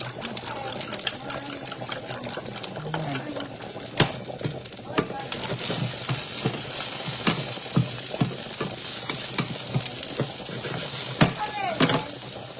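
A large batch of eggs fries in oil, a steady close sizzle broken by sharp pops and scraping taps of a utensil, with a voice talking now and then.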